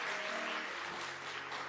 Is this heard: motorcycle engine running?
no